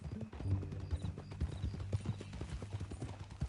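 Steady clip-clopping of horse hooves at a walking pace in a Western outlaw video game, with rhythmic, fairly close footfalls over a dense background of ambient sound.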